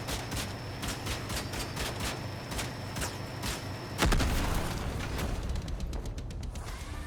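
Whirl weapons fitted with synchronizers firing in the vehicle combat game Crossout, a rapid regular train of sharp shots followed by a heavy thump and denser continued fire.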